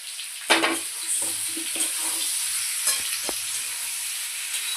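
Tomatoes, ginger and spices with mixed vegetables for mung dal fry in a pan, with a steady close sizzle broken by a few scraping stirs of a spoon.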